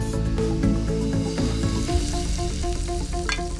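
Tuna searing in oil in a frying pan, giving a steady loud sizzle with crackles and a few clinks of utensils, no voices.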